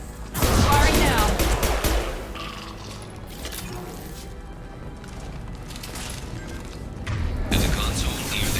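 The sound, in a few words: weapons firing in Mass Effect 2 video game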